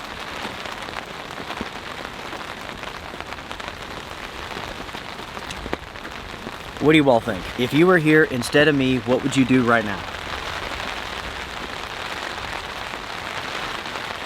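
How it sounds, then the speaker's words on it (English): Heavy rain drums steadily on a cheap tent during a windy overnight storm, a dense continuous patter throughout while someone speaks briefly over it. "It's 7:30, pouring the rain, super windy, a little cold."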